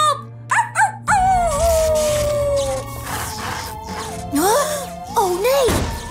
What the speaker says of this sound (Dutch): Blijf janken, Rubble!